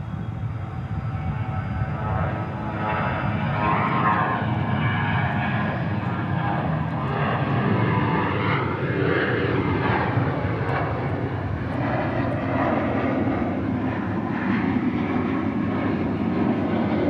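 A passenger jet landing at Dallas Fort Worth (DFW) airport gives a loud, sustained engine roar with shifting whines as it passes, continuous and without speech.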